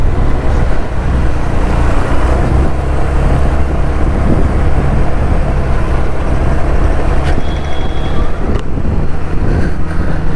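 Dense road traffic roars around a rider on a 2025 Honda Activa 125 scooter, with steady wind buffeting and engine rumble, plus a couple of brief higher horn-like tones near the end.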